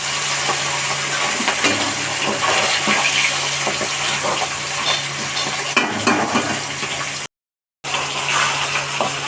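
Katla fish pieces frying in hot oil, a loud steady bubbling sizzle with a low hum underneath and a brief cut to silence near the end.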